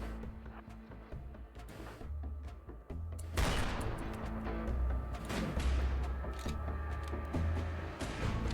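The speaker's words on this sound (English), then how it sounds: "hand cannon's got some range." Hand cannon gunfire in a video game, sharp shots cracking amid a dense battle soundscape with booming impacts and rumbling low noise, growing louder and busier in the second half.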